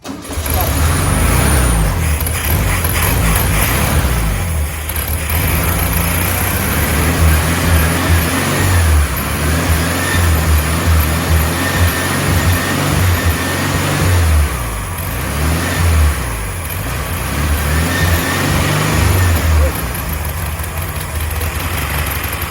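A 1967 VW Beetle engine with a varnish-filled carburetor cranks and churns loudly and steadily for the whole stretch, with a low rough drone and brief dips in level.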